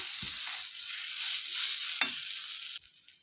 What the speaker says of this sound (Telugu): ఈ గోధుమ నూక వేగిన తర్వాత మనం అట్టుపళ్ళని వేసుకోవాలి అట్టుపళ్ళు కూడా వేసి బాగా ఇలా మెత్తగా ఇలాగా అనాలండి